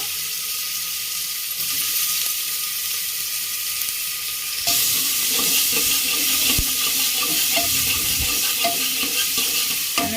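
Chopped onions hiss and sizzle in hot oil with bay leaves and cumin while cooking a spicy mushroom masala, with stirring scrapes in the pan. The frying grows noticeably louder and busier partway through.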